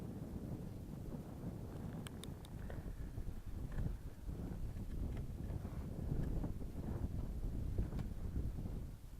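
Strong wind buffets across a frozen lake at minus 25 degrees during ice fishing, a continuous low rumbling roar with gusts swelling and fading, faint and close to the microphone.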